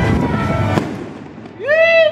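Fireworks at a small outdoor celebration go off in a sharp close burst, followed by a rising whistling tone from a second rocket, loud and near, with brief voices around them.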